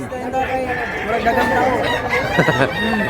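A rooster crows loudly and close, one full drawn-out crow with harmonic warbling, and chatter from people at a Cebu poultry sale sits behind it.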